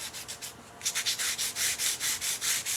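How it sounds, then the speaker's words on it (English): Fine sandpaper lightly rubs over raised embossed stencil bridges in short, rhythmic back-and-forth strokes, faint and close, starting soft and then settling into steady repeated passes. "So you can do just a little bit of sanding there and it knocks it down just a little bit."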